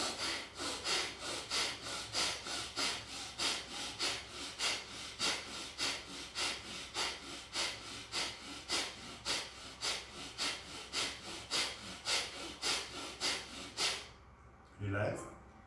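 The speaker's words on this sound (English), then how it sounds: "now you only use simple inhale and exhale 10 to 20 times." Slow, even pranayama breathing, simple inhales and exhales done in a yoga session, heard as a steady train of close, loud breath pulses repeating about twice a second, ending in a brief pause.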